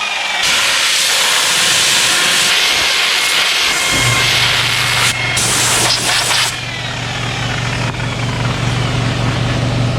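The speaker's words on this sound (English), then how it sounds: "I personally like to use an air compressor, bring this thing up to speed a little bit." Air compressor blowing lint and dust out of polishing pads while gelcoat polishing, a loud steady hiss of compressed air over a low motor hum that starts partway through and runs alone to the end.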